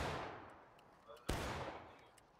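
Musket gunfire in the Civil War game War of Rights, with rolling distant volleys and one sharp, loud nearby shot midway, then a decaying echo.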